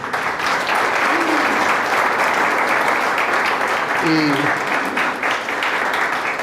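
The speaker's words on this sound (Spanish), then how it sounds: "yo creo que el Señor merece un aplauso, y ustedes también" A church congregation applauds steadily and loudly throughout, a dense wash of clapping with brief voices rising over it now and then.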